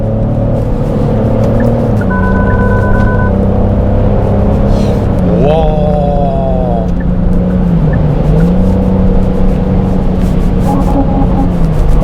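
A Genesis GV70 SUV accelerates hard with a loud, continuous roar and rising revs, heard from close up with no one talking.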